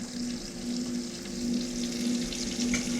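Red drum fish searing in a hot pan gives a steady, even sizzle with a faint constant hum behind it, close and moderately loud, no talking.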